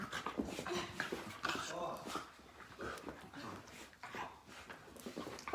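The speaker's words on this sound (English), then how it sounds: "Oh, there's my puppy." A puppy pants and whimpers close by throughout, with small yips mixed in, during an at-home Pilates ab and back workout.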